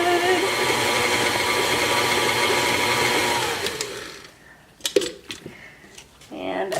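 Electric mixer whirring steadily through cookie dough with vanilla being added, loud and continuous for about four seconds before cutting off, followed by quieter kitchen clatter and brief bumps.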